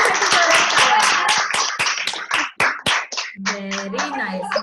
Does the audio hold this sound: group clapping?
yes